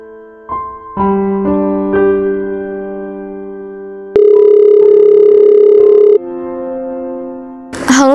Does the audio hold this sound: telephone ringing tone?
yes